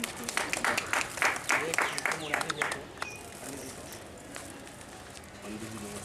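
A small group applauds to honour someone at a casual Hindi-language gathering. Sharp, fairly close claps ring out for about two and a half seconds, then fade into quieter room sound with people talking.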